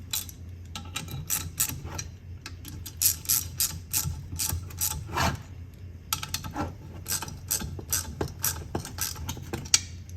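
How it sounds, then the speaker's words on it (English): A wrench clicks as it tightens bolts on a power steering unit fitted to a 1952 Chevy truck, quick ratcheting bursts of close, sharp clicks in irregular runs with short pauses between them. "Tighten this down a little bit."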